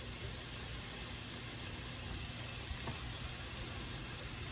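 Beef patties for White Castle style cheeseburger sliders sizzle on a bed of onions, a steady close crackling hiss with no voices.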